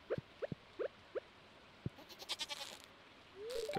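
A goat in the farm game Stardew Valley bleats in a series of short, quiet calls, several in a row, followed by softer chimes and rustling game sounds.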